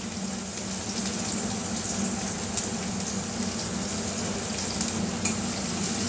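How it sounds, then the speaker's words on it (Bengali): Chopped onion sizzles in hot oil with fenugreek, black cumin, dried chili and bay leaf in a pan, a steady, close frying hiss with no voices. "পেঁয়াজটা একটু ভেজে নেব"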